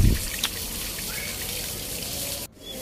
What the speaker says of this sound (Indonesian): ada air terjun buatan.